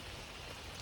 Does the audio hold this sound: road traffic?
no